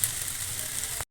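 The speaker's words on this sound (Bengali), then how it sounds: "এখন আমি আলু ভাজছি। এই যে আলু ভাজা হচ্ছে" Potatoes fry in a pan with a steady, even sizzling hiss at moderate level, alone for about a second before cutting off abruptly.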